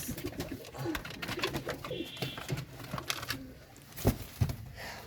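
Racing pigeons coo softly nearby amid rustling and fluttering, with a few sharp taps and movements in the loft.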